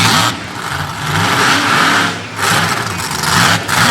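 A monster truck engine revs loudly at a Monster Power arena event in Fredericksburg, Virginia, with a sustained roar that surges, dips and climbs again several times, no talk over it.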